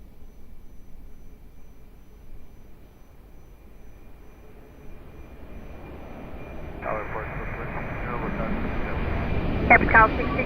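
Jet airliner rolling for takeoff at Lisbon Airport, a distant engine roar swelling steadily and growing louder toward the end, with radio chatter and talk over the top.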